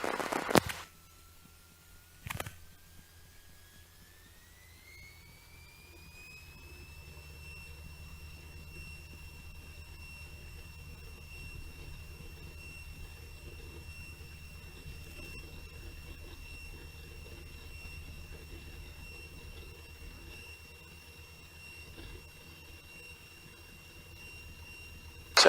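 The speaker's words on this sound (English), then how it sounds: "Luscombe 1813 Kilo, taking off runway 27" A Luscombe light airplane engine drones low and steady as it takes off from runway 27 at Easton State, with a whining tone that rises in pitch during the first seconds and then holds steady, fairly faint and with no talk.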